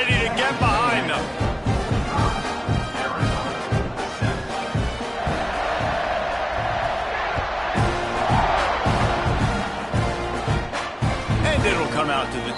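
A stadium crowd roars steadily at a college football kickoff between Arizona and Texas A&M, a dense wash of cheering that swells toward the middle while a commentator talks over it.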